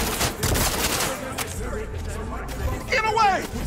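Gunfire in Cyberpunk 2077 rattles out in rapid bursts during a chaotic fight, loud and close, with a player's voice talking over the shots.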